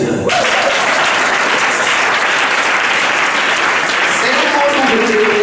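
Church congregation breaking into loud, sustained applause that fills the whole stretch, dense and close, with a voice rising faintly over the clapping near the end.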